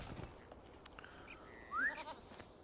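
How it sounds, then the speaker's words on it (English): A goat mount bleats once in a Lord of the Rings Online game near Hytbold, a short rising call standing out against a low, steady game ambience with no talk. "I'm gonna be riding a goat from my non-inertia"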